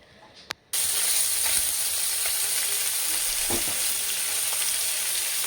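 Small mola fish frying in a hot pan give a loud, steady sizzle and crackle that starts abruptly after a brief quiet moment and continues unbroken.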